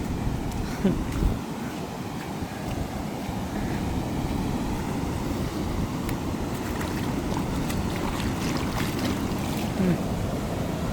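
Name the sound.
floodwater flowing through breach at Iranaimadu reservoir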